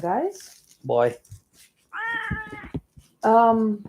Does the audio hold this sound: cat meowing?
yes